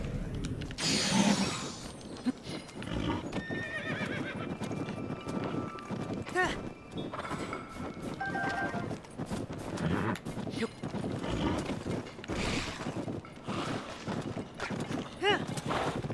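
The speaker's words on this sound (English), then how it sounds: "so this horse is not bad" Video game horse hooves in The Legend of Zelda: Tears of the Kingdom clatter at a running pace with a brief whinny near the start, continuing steadily alongside other game sounds.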